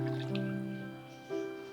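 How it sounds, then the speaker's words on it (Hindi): Water poured from a bowl into a pot of pakora kadhi, a soft liquid splash and gurgle that runs continuously for under two seconds, close and fairly quiet. "यहाँ पे जो है अब इसमें मैं और पानी ऐड करूँगी।"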